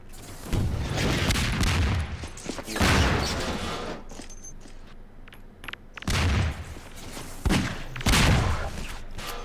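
SMG grenades explode amid gunfire in a Half-Life 2 Deathmatch 1v1 match, several heavy booming blasts spaced a few seconds apart with rattling shots and debris between them, loud and close.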